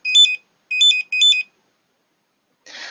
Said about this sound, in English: that series of beeps was the sort of good audible signal of scanner was communicating